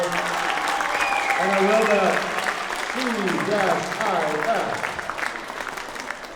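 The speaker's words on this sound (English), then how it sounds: "Let's give another round of applause for our 7th graders." An audience applauds 7th graders at a school district event. The dense clapping runs steadily under a voice talking over a microphone.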